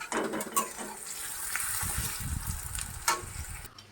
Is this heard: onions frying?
yes